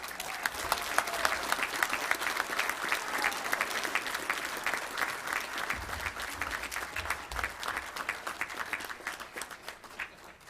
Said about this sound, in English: Please give a big round of applause for Latavion Scott from Bryant.